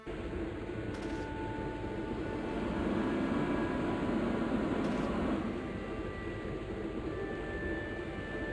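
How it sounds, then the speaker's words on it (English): A clothes dryer in the Broken Sword video game runs with a steady, broad mechanical whir and rumble, swelling slightly in the middle. No speech over it, just a few faint tonal hums. "I used the dryer to speed up the process."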